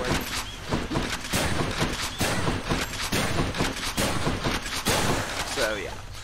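Rail gun power shots in the Hades video game go off in a fast, steady string of sharp bursts, loud and near, with a speaking voice mixed in under the firing.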